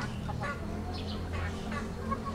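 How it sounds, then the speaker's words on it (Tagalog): Backyard chickens, about four months old, give several short clucks and calls at moderate distance over a low steady background hum. "Itong manok."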